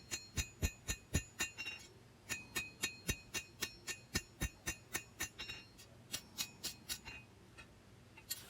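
Planishing hammer blows on a forged steel knife blade made from a railroad clip, a steady rhythm of sharp metallic ringing taps, dozens in a row with brief pauses, faint and alone.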